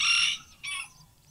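Two short, shrill chicken calls ring out close by, one after the other, then a quiet pause.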